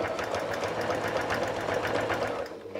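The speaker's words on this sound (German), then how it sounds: "Das ist das einzige Prinzip und wir nähen weiter." A sewing machine runs steadily for about three seconds, quilting a zigzag stitch on a fabric firefish appliqué, with a close, continuous mechanical whir that eases slightly at the end.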